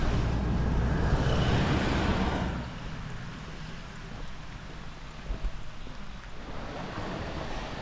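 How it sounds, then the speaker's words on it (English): Steady running water from a waterfall and stream beside a walking trail in Thailand, a dense continuous rush that is loudest at first and then settles to a softer, even flow, with no voices. "Beautiful waterfall."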